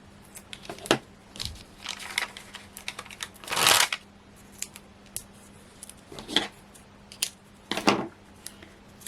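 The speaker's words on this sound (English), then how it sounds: "Let's bring in my scissors." Scissors snipping paper for a craft card, a series of short crisp cuts at irregular intervals with one longer slice, close and fairly quiet, no talking.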